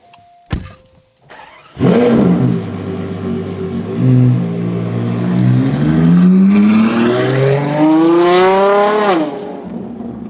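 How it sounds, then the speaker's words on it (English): A Ferrari Purosangue V12 engine with a Novitec race exhaust with flaps starts with a sharp blip, then revs up loudly with a rising, screaming exhaust note before falling away, close and very loud. "this one has a race exhaust system with flaps"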